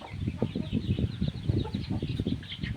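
A Thai fighting cock with strong legs makes a close, continuous flurry of low clucks and squawks with some wing flapping and scuffling.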